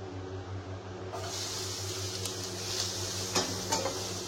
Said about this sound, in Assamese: এতিয়া ধুনীয়াকৈ কেৰাহী পাতি থৈছে এতিয়া ভাজিম আধা ভাজা কৰিম